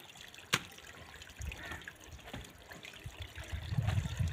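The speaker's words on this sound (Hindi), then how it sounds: "हम इस पानी का बांध तोड़ने वाले हैं" Water trickles and splashes from a small broken dam, a faint uneven flow outdoors with a sharp knock early on and a low rumble building toward the end.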